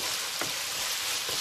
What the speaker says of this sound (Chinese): 芝麻，还有我们的香菜，迅速翻炒